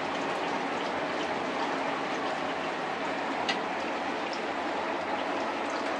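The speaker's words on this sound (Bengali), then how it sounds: "এই যে বৃষ্টি হইতেছে" Rain falls steadily near an outdoor cooking spot, an even, unbroken hiss that stays at a moderate level, with no talking.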